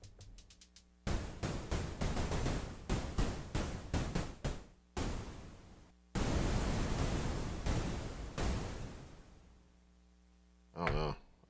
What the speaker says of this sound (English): See, now that sounds like a hi-hat.